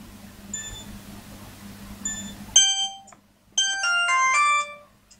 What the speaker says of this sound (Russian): сначала можно проверить звонок